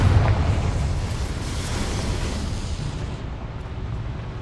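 Confringo blasting spell in Hogwarts Legacy, a loud booming magical explosion with a heavy low rumble that gradually decays over several seconds.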